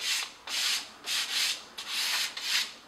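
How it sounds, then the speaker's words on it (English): Primed wood lightly sanded by hand to knock off rough edges, with five or six rhythmic back-and-forth abrasive strokes, close and clear, and no other sound. "we'll just very lightly sand it off"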